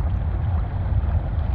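In Resident Evil 4, water drains through a sewer drainage valve as a steady, dense low rushing and gurgling flow, loud and continuous throughout, with no talking.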